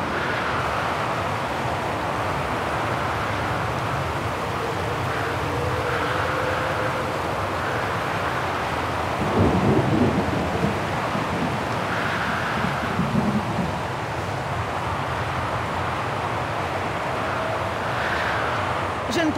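Storm wind roars without a break near the Silberspiegel refuge in Vaghen in Syberia: The World Before, with gusts swelling and easing and a heavier rumbling burst of thunder around the middle.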